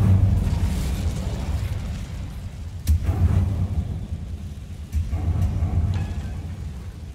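Incendio fire spell cast in Hogwarts Legacy, a fiery whoosh and burst over a low rumbling game backdrop, with a sharp flare near the middle and further swells of flame.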